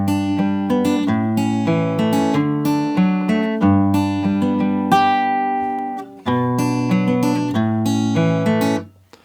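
Acoustic guitar strums and picks the chorus of a song, an F barre chord among the changes, in steady rhythmic strokes with ringing chords, close and alone with a brief break near the end.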